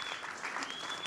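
Brief burst of audience applause for a bailiff at a results ceremony, dense and steady clapping with a thin whistle-like tone running through it.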